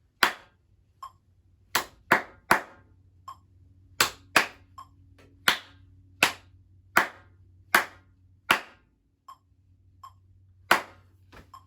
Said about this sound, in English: Let's do that just clapping now.